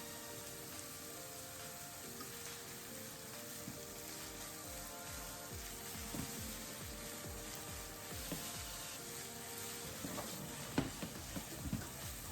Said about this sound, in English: add the chopped onions. After that, give it a quick stir and add a small amount of salt.